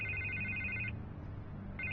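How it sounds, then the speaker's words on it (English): A telephone rings in a Batman video game, two clean bursts of electronic ringing split by a short pause, steady and moderately loud over a low background hum. "I can't get the phone to stop ringing"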